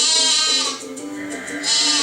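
A single sheep bleats in a long, wavering cry, close and fairly loud, with no other sounds around it.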